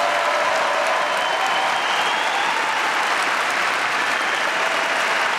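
An audience at a poetry slam awards show in the Elbphilharmonie applauds the host, a dense, sustained crowd clapping that stays loud and even for the whole stretch.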